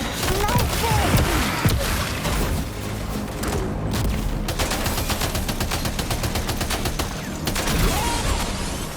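Sustained rapid gunfire in the video game Death Stranding 2, dense bursts of automatic shots and booms rattling almost continuously, loud and close, with brief in-game voice callouts.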